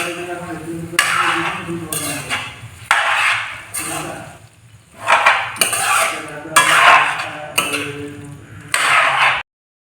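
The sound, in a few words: stirring mutton with ginger garlic paste in a pot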